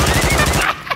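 A burst of Call of Duty gunfire rings out loud and close, a fast rattling string of shots that cuts off sharply after under a second, leaving a single faint echoing report.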